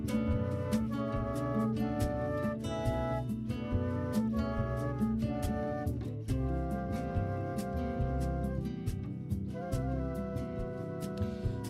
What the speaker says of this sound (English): Let's just transition to the flutes, and they sound like this.